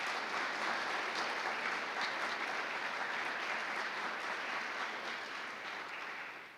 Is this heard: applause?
yes